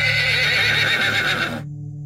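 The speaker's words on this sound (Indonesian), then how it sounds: "semua diam saat terdengar suara ringkikan kuda, disusul suara besi dipukul dengan nyaring." A loud, close horse neigh, a long shrill whinny that holds for over a second and a half, then cuts off abruptly into near silence, used as a sound effect.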